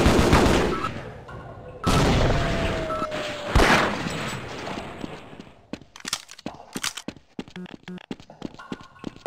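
Automated turret gunfire in the video game Half-Life, loud sustained bursts that break into scattered sharp shots and clattering impacts, with no speech over it.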